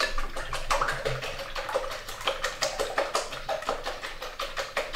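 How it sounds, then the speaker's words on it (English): A silicone-bottomed whisk beats eggs in a bowl for a Spanish omelette, with fast, even, sloshing strokes repeating close by and no talk. "you've got a nice silicon-bottomed whisk there. If you want to give that a good old whisk round."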